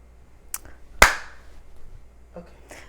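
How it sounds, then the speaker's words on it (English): One loud, sharp hand clap rings out in a quiet room, preceded by a smaller click and followed by faint soft rustles. "Now clap."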